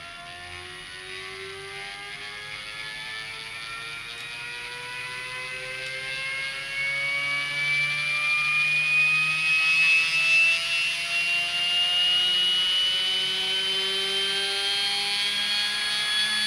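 A small electric motor under FOC control, driven by a PSoC 4 S-Series controller, whirs with a rising whine as it slowly ramps up toward 25,000 RPM, steady and close with no talk.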